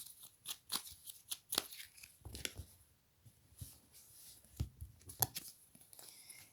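Tarot cards are shuffled and drawn, producing quiet, irregular riffles, flicks and soft slaps of card stock at close range, with short pauses between bursts.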